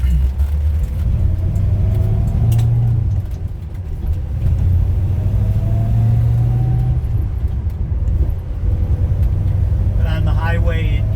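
A 1973 Dodge Charger with a 440 V8 and four-speed idles in a loud, steady, deep rumble throughout, while someone talks over the engine.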